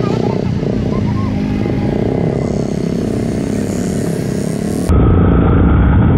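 A motorcycle on a road ride pulls away with a steady, loud engine drone and wind rush close by, and the engine note thickens and grows louder toward the end.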